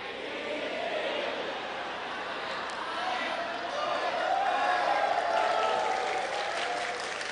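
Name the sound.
applause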